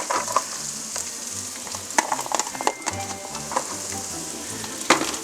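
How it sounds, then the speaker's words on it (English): Chopped onion sautéing in melted fat in a pan, a steady close sizzle and crackle with occasional scrapes and stirring clinks, alone with no talk. "we'll saute it slightly till it becomes a little transparent"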